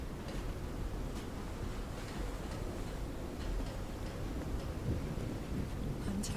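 Steady rainfall with faint rumbles of thunder from a storm on a beach in the game Call of the Sea, continuous and low, with no one speaking.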